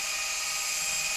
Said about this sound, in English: So I'm going to use the drill to do this because I'm kind of lazy.